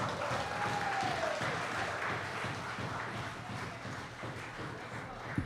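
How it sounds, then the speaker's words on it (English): Audience clapping at an NNP zonal meeting in St. Patrick after a speaker finishes. It forms a continuous, moderately loud patter of many hands, with a faint voice briefly heard early on. "Let's hear some more claps for him, man."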